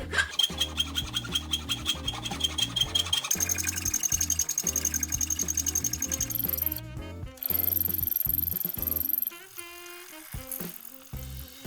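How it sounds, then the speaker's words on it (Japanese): A metal file rasps back and forth on an aluminum PC case frame, producing a loud, buzzing chatter with rhythmic strokes and a high ringing squeal at times. "往復掛けするとビビりが出てうるさいです。"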